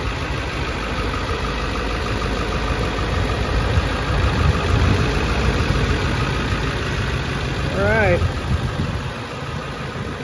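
A 2002 Ford F-550 with a 7.3 diesel engine idles steadily and loudly up close, with a low rumbling clatter and someone briefly speaking over it.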